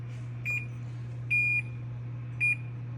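Oven timer being set for baking, giving three short electronic beeps spaced unevenly over a steady low hum.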